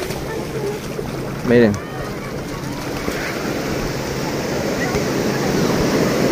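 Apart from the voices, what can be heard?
ocean waves at Puerto Marquez beach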